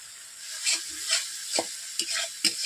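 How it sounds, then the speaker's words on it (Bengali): Spice paste fries in hot oil for katla fish curry, a close, steady sizzle with oil spitting and crackling in quick bursts and soft stirring scrapes, no voices. "আমার মশলা কষানো হয়ে গেছে চারদিক থেকে তেল ছিটিয়ে যাচ্ছে"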